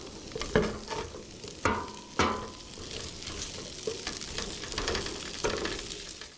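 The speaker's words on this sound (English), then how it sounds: "We're just doing up some fried potatoes for breakfast." Potatoes fry in a pan over a campsite breakfast fire. A steady sizzle runs throughout, broken by a few distinct scraping stirs and clunks of the utensil against the pan, close and moderately loud.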